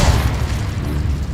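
In Hogwarts Legacy, an Incendio fire spell bursts with a deep, heavy whoomp at the start, then a rumbling roar of flame that fades over about a second, close and loud.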